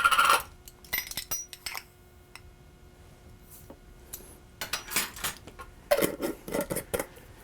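A measuring spoon clinks and scrapes against a container while scooping chia seeds, giving a few sharp, close metallic taps with quiet gaps between them.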